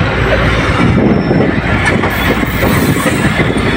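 A train rumbles steadily along the tracks near Hyderabad–Mirpurkhas, a continuous loud roar of wheels and carriages without pause, moving in stop-start fashion due to a signal fault.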